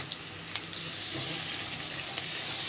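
Broken rice hits a hot pan and sizzles, a dense hissing fry that swells slightly after about a second and continues steadily up close, with no one talking.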